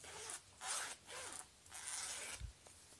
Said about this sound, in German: Hier ist der Reißverschluss.